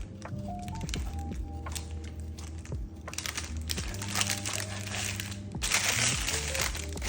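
A knife cuts through a tray of shortbread jam bars, giving soft crumbly crunches and scraping taps at close range, fairly quiet, with faint talk in the background.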